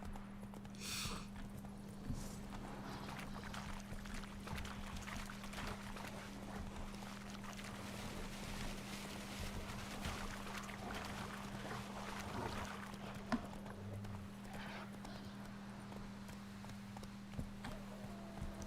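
Horse hooves clip-clop steadily throughout while galloping in The Witcher 3, a continuous rhythmic patter over a constant low in-game hum, with no talk.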